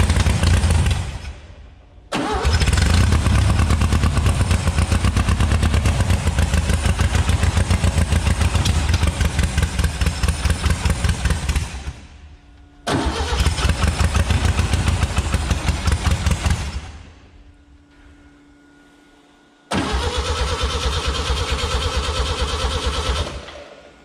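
A Volkswagen Beetle kit car's engine, left sitting for 30 years, cranks and catches in three loud, rough running bursts separated by short quiet gaps, with a steady low throb throughout.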